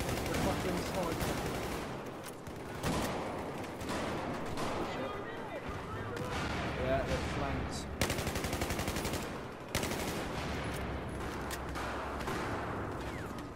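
Sniper rifle and other gunfire in a squad-based online shooter game, repeated sharp loud shots and bursts throughout, with players talking over the shooting.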